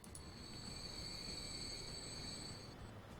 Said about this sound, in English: We've got a train coming in.